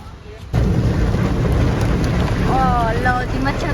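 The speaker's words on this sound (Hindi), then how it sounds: "भयंकर बारिश शुरू हो चुकी है" A dense, loud roar of heavy rain kicks in abruptly and holds steady, close by at a cloth market in Ambala, India, with a faint whistling tone near the end.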